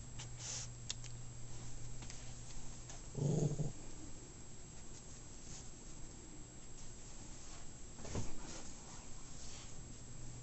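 A frightened dog growls and whimpers in two short bursts, one around the middle and one near the end, over a quiet indoor background hum.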